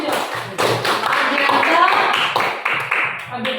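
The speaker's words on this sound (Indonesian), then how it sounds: "Tepuk tangan dulu." Students in a class clapping for a classmate, light scattered handclaps and taps at close range, mixed with overlapping voices talking.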